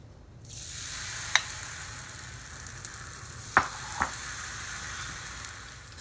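Garbanzo bean flour batter, thinned and spread in a circle in a hot pan for a herbed chickpea wrap, sizzles with a steady close hiss throughout, broken by a few sharp utensil clicks.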